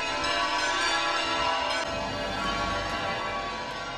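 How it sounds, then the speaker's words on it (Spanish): Church bells ring out across Alicante, Spain, on a city feast day, a sustained, dense peal of overlapping tones that holds steady for several seconds with no voices. "con el repicar de las campanas y el himno de la ciudad."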